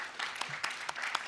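Sparse applause from a conference audience after a climate resilience talk, a few distinct claps standing out over a soft, thin layer of clapping.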